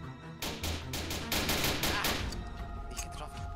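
Rapid bursts of automatic gunfire in the Roblox game Notruf Hamburg, a loud clustered string of shots for about two seconds, then trailing off into quieter game ambience.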